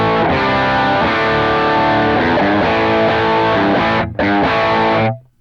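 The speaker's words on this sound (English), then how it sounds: "that is the sound of the amp by itself" An electric guitar played straight through an amp with no compression, boosts, delays or reverb rings out in a strummed chord sequence, loud and dry, then cuts off abruptly near the end.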